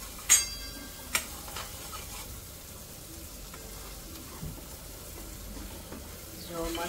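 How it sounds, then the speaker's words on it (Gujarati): Spice masala roasting in hot oil for usal misal sizzles quietly and steadily, a soft continuous frying hiss with a few faint clinks near the start. "જો મસ્ત મસાલો શેકાઈ ગયો"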